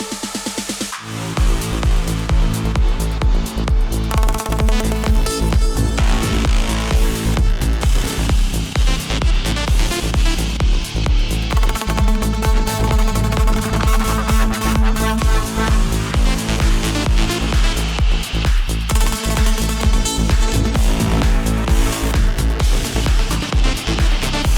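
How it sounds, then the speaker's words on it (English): A cinematic analog synth track generated in ACE Studio plays continuously, dense and loud with steady pulsing rhythm and layered sustained tones, no voices. "I went for cinematic analog synth, which I combined with the original synth."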